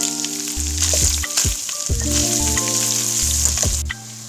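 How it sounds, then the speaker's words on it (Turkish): Meat with peppers and onions sizzles steadily in a hot pan, a loud continuous frying hiss with occasional stirring scrapes, close up and without voices. "Suyunu çeken etin içine biber ve soğanları atıp 5 dakika daha kavuruyoruz."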